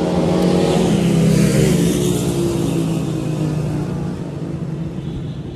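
A car drives past on a busy street, its engine rising to a loud revving rumble close by and then easing as it moves away, with traffic noise behind it and no speech.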